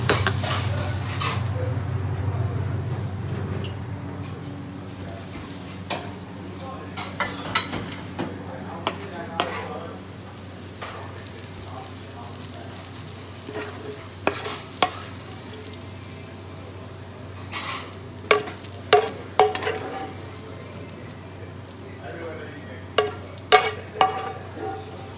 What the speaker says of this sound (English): Onions are crisped away.